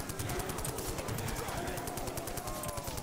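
A video game gun in Call of Duty Custom Zombies fires rapid, evenly spaced automatic bursts, held at moderate volume throughout without pause. Talk may be faintly present underneath.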